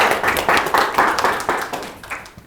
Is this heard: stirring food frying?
no